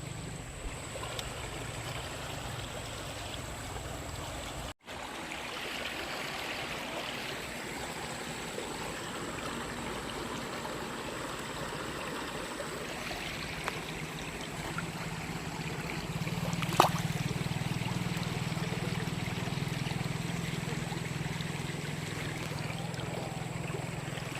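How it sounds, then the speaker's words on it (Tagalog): A river flows near Angono in the Philippines, a steady rushing babble of water heard close and continuous for the whole stretch, rising slightly in the later part, without speech. "Tapos meron ako nakitang ganito, tong ilog na to."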